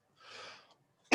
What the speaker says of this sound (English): You witnessed that cough.